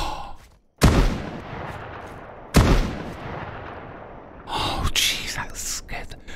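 Turret firing in the zombie sandbox video game Outbreak Island Pendulum, two loud sharp blasts a couple of seconds apart, followed by a flurry of further bangs while a voice exclaims over them.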